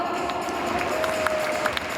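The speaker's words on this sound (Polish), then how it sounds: "Drodzy Państwo, wielkie brawa!" Audience applause fills an award ceremony hall at the 2016 "O Szablę Wołodyjowskiego" prize-giving, a steady, dense wash of clapping from a sizeable crowd with a faint sustained tone running underneath.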